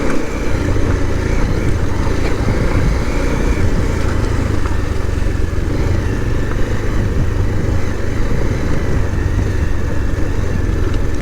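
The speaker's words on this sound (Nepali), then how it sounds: "हावा धेरै छ क्या बाइकमा यार" Strong wind buffets a motorcycle rider on a muddy, slippery highway stretch between Sunwal and Damauli in Nepal, a loud, steady low roar that runs without a break, with no talking.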